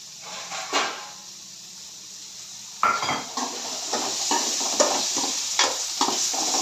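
Soya chunks fry in a hot pan, a close sizzling hiss broken by repeated clattering scrapes of a spoon against the metal that come in uneven bursts, with no talking.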